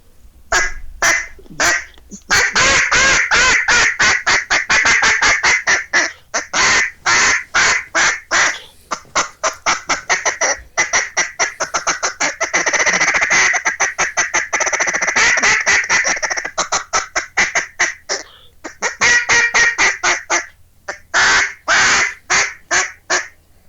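A hand-tuned duck call with a rough, raspy low end is blown hard and loud, long runs of rapid staccato quacks broken by brief pauses, close and alone.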